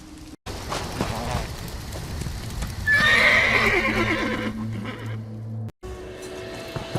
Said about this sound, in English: I acquired horses to speed us on our journey.